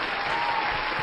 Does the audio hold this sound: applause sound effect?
yes